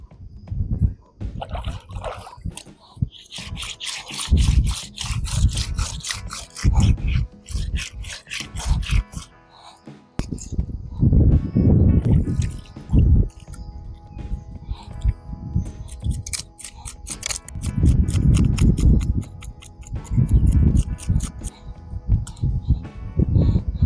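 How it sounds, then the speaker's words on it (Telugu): Fresh river fish are washed and scrubbed by hand, with loud repeated rubbing and rasping strokes in bursts, water sloshing between them, close up. "మన చేపలు కడిగే టైం వచ్చింది. ఇది కడిగి తోమేసి కుకింగ్ చేద్దాం."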